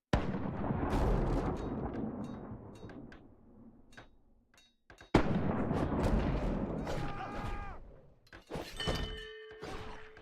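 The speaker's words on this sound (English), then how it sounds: "Palm trees stop most of the cannon fire." Cannons boom repeatedly in a pirate video game, heavy blasts with splintering crashes and debris, a lull, then a sharp loud volley and further impacts mixed with chiming game effects.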